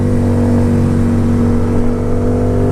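A Yamaha Royal Star Venture motorcycle with a five-speed-plus-overdrive gearbox runs close by, its engine holding a loud, steady low rumble throughout with no talk over it.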